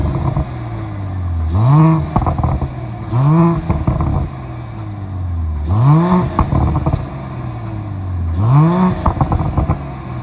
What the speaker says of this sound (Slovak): Dobre to odladili, ten klapkový výfuk.